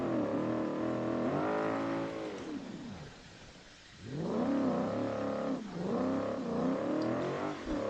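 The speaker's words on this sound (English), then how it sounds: "That Coyote V8 does sound amazing." In the BeamNG driving game, a pickup truck's Coyote V8 revs hard in rising and falling sweeps, easing off briefly midway before roaring back up, loud and close with no talking.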